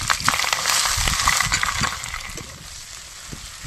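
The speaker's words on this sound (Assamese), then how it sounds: "এতিয়া আমি তেলটো গৰম যিহেতু হৈ গ'ল, পিঁয়াজখিনি দিলাম।" Sliced onions dropped into hot oil with bay leaf and whole cumin for an Assamese chicken curry, a crackling sizzle with stirring scrapes, louder at first then settling to a quieter fry, no talk.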